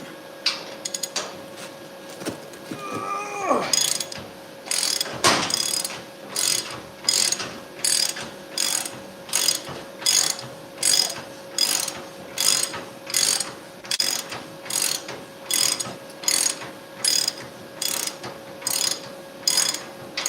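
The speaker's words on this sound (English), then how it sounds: "so now I'm going to unbolt it" A ratchet wrench clicks rhythmically while loosening a bolt, close and sharp, in steady bursts of back-and-forth strokes after a few initial clanks.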